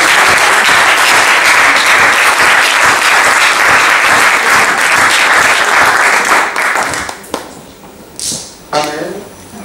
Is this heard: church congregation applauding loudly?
yes